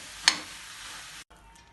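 Lentil and jaggery puran filling being stirred in a pan with a sharp opening clack, then a steady close, sizzling scrape that stops abruptly, followed by quieter rustling.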